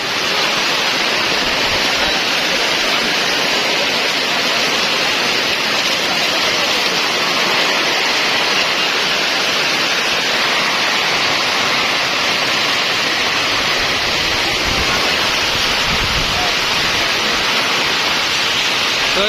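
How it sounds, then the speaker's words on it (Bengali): A loud, unbroken roar of heavy rain, dense and steady like rushing water, fills the whole stretch with no talking. "প্রচুর পরিমাণ বৃষ্টি নামতেছে"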